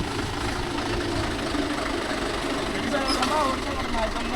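Mahindra Yuvo Tech Plus 585 4WD tractor pulling a five-tine cultivator drones with a steady engine hum under continuous talk.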